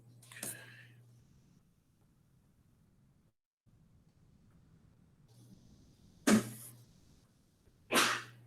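A couple of sharp, sudden bursts like sneezes break through an otherwise quiet room, the loudest two coming close together near the end.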